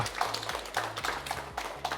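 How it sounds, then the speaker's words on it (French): An audience at a business training event on financial education applauds together, a dense, steady patter of many hands clapping at moderate distance. "Nous allons encore une fois l'applaudir très, très, très, très fort."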